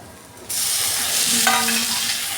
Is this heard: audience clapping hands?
no